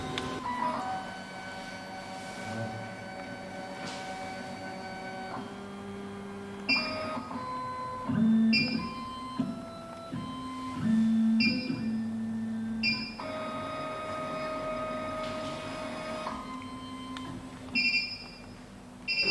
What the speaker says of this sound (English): Press Start button to calibrate the distance between decoder and cutter.